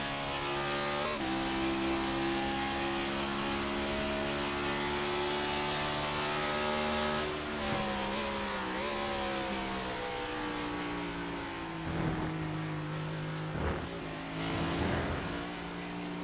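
Race car engines roar at Watkins Glen in a racing video game, a loud continuous whine with rising and falling revs as cars accelerate, downshift and brake through corners.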